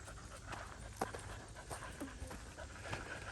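A dog panting on a trail walk, quick soft breaths repeating close by at a low level, with a few faint footstep-like taps.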